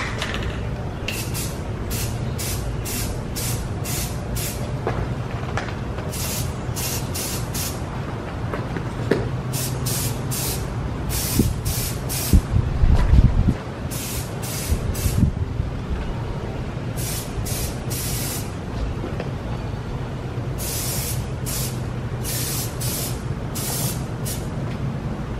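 Black lacquer spray paint hisses from an aerosol can in repeated bursts onto the steel edges of a four-post car lift, short even sprays separated by pauses over steady background noise.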